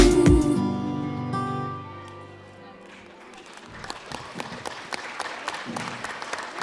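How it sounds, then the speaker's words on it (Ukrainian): Audience applause for the children's dance ensemble Sonechko at a regional choreography festival starts as a sung music piece dies away, growing from scattered claps to a steady patter of many hands. "Оплески хореографічному ансамблю Сонечко."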